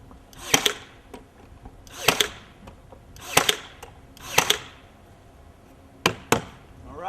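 Nail gun firing into a wooden soffit fascia board, six sharp cracks in uneven pairs and singles, close and loud, each with a short ringing tail and no voices.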